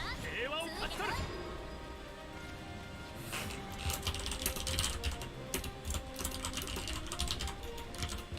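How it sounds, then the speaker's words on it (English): Fast typing on a computer keyboard during a ranked card-game session, a dense run of light clicky keystrokes, close up, with a brief voice at the start. "I started typing a response to that"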